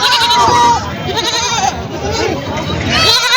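Several goats and kids bleat over a busy crowd of voices and general chatter at the Vasmat goat market in Hingoli, Maharashtra, the calls overlapping at close range.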